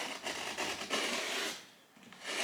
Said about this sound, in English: I do tend to run the blade up the back as well